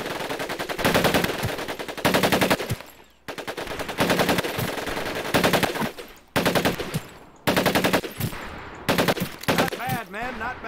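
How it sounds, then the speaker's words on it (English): Automatic weapons from the Medal of Honor Pacific-theater shooting drill, firing a series of short, loud, close bursts separated by brief pauses, with no talking. "Take your time to aim and fire the weapon in short bursts only."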